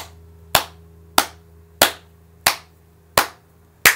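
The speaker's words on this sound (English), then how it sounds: "You can clap your hands." Six crisp hand claps at an even, steady pace, each a sharp close crack that fades quickly, over a faint low hum with no talking.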